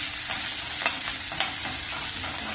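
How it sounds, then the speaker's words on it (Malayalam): Chopped tomato sautéed in a pan with ginger, garlic and green chili for a Kerala sadya masala curry sizzles steadily up close, with scraping stirs and soft clacks recurring throughout and no speech. "ഇതിലേക്ക് ഒരു തക്കാളി മുറിച്ച് ചേർത്ത് വഴറ്റാം"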